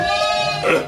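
Sheep and lambs bleat in a village flock, a single sustained, quavering cry close and loud, briefly rising near its end.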